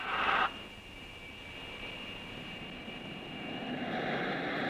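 A Red Pelicans RAF aerobatic team aircraft rolls for takeoff, its engine a steady, moderately distant drone that slowly swells, opening with a brief burst of radio static.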